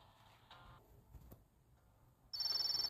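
A telephone ringtone starts near the end with a loud, rapid trilling pulse, preceded by faint ticking and quiet room sounds with no speech.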